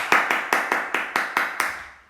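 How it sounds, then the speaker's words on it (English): Children clap in unison at a primary school assembly, about eight sharp, evenly spaced claps in a steady rhythm. Each clap rings briefly in the hall before the next. "Now, can we give them a clap?"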